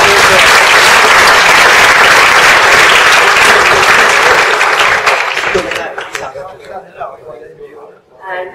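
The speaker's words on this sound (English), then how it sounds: "give a round of applause for Kenny." Loud, dense applause from an audience at an institute's tenth anniversary event, welcoming a speaker, sustained for several seconds before thinning out to a few scattered claps near the end.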